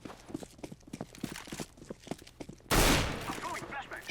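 A loud gunshot bursts out in a first-person shooter match, sharp and close, following a stretch of quick footstep-like clicks and game noise, with a player talking over the action.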